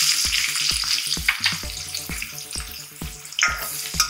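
Chopped onion frying in oil with two dried chillies and asafoetida powder, a steady sizzle broken by regular scraping stirs of a spoon against the pan.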